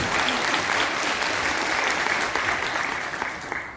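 A political party women's branch meeting in Marmaris breaks into dense, loud audience applause that stays steady, then tapers slightly toward the end.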